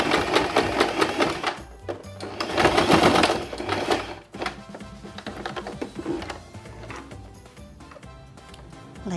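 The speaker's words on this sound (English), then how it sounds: "I will sew the loop here to the turban hat here." A sewing machine stitches a fabric loop onto a baby's turban hat, its fast mechanical whirring running in bursts with brief pauses and lighter ticking between runs, close and steady.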